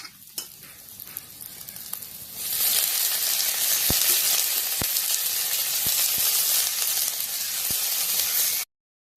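A quiet pan with a few clinks suddenly erupts into loud sizzling as dried fish hits hot oil with fried onion, garlic and green chillies, hissing steadily with occasional utensil taps.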